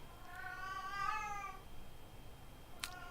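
A single drawn-out, fairly faint cat meow sounds in a quiet room, followed by a brief click near the end.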